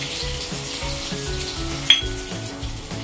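Cumin seeds sizzling in hot oil in a pan while making buttermilk curry, a steady close frying hiss with a repeating low stirring rhythm and one sharp metallic clink partway through.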